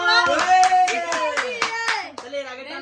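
Several people clap after someone wins a card game at a birthday gathering, about ten quick, sharp claps in an uneven run, with a voice talking or exclaiming over them.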